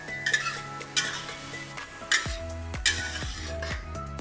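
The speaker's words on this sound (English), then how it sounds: "Before it's really hot, we put in the paste first." Chili paste for mushroom rendang frying in hot oil in a pan, a steady sizzle broken by repeated scraping stirs and knocks of a utensil against the pan, close and fairly loud.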